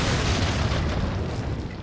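A grenade blast in Resident Evil 4, a loud, sustained low rumbling boom that fills the whole clip and fades only slightly toward the end, with no voices over it.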